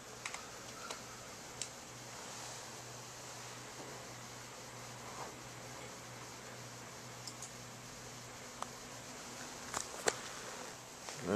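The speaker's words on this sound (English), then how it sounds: "I guess I'll type in Wikipedia." Soft keystrokes on a computer keyboard, scattered faint clicks and taps at uneven intervals over a low steady hum, growing a little busier toward the end.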